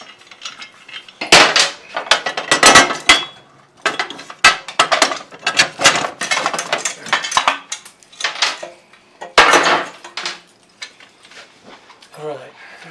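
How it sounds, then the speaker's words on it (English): Wrenches working on a 1971 oil-in-frame motorcycle while the seat and exhaust come off, with loud metallic clanks, ratcheting clicks and tool rattles in irregular bursts close by, separated by short pauses. "Get some wrenches out, and Chris, we can start pulling the seat."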